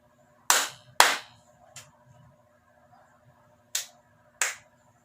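Five sharp hand claps in a quiet room: two loud, close claps, a softer one, then two more after a pause.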